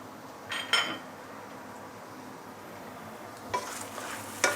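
Noodles with roast pork are stir-fried over a low, steady sizzle, with a few sharp clinks and scrapes of a utensil against the pan near the start and again near the end.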